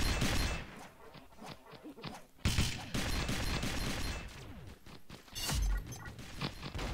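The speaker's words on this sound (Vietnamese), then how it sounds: "Đây mình sẽ dùng cái súng này để bắn headshot bọn nó." Future Reaper gunfire in the Pixel Gun mobile video game, with rapid bursts of shots over busy game noise, loud and close, broken by short pauses between volleys.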